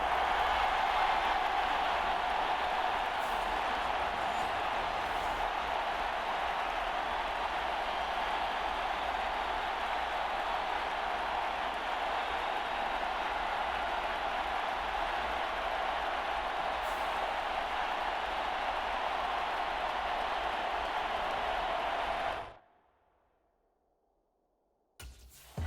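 Stadium crowd roaring in the Madden 25 football game, a steady dense wash of cheering that holds at full level for over twenty seconds before cutting abruptly to near silence.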